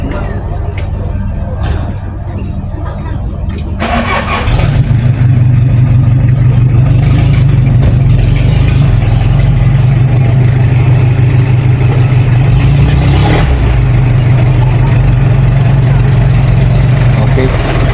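A truck engine at a bridge construction site on Samal Island, Davao, starts after a few seconds of ambient noise, then idles in a steady, loud low rumble with a brief hiss partway through, while people talk nearby.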